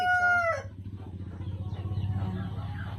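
Black australorp laying hens give a loud, close rooster-style crow at the start, then a steady low rhythmic background continues under faint clucking.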